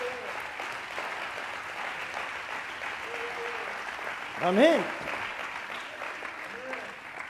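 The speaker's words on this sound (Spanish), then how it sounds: "Dele un aplauso al Señor" A church congregation applauds steadily through a Spanish-language sermon, a loud, sustained roar of clapping with voices calling out over it and one swelling shout near the middle.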